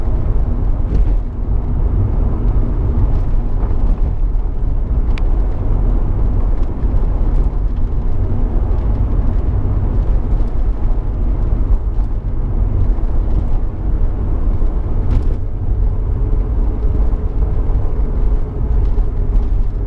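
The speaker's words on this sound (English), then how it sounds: "this is a lovely driving car" A 2003 Alfa Romeo GTV 2.0 Twin Spark 16v cruises on a country road, its engine and road noise a loud, steady low rumble from inside the cabin, with no talking.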